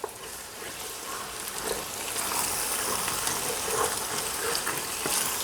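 Half a cup of vermouth hisses and sizzles as it hits the hot pan of veal stew to deglaze it, a steady close frying crackle with bubbling underneath.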